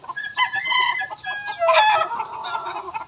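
Several chickens on a farm, mostly hens, clucking and squawking in overlapping bursts throughout, fairly close and lively, with a brief higher call near the middle and no talk.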